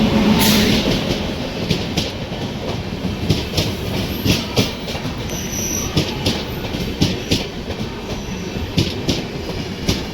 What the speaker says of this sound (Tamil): இந்த ஜேர்னி நம்மளை புல் பண்ண போகிறது வேப் 7 இன்ஜின் தாங்க.